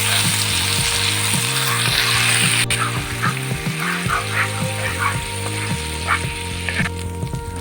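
Red chilli garlic paste hisses and sizzles as it hits hot oil with lightly fried chopped garlic for an Indo-Chinese chicken starter, a steady close frying crackle with rhythmic scraping and stirring clicks, no talking.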